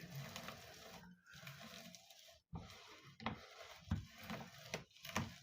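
A hand grinder cranked back and forth as it grinds walnuts for a honey-propolis paste, producing quiet rasping, gritty crunches with brief pauses between turns.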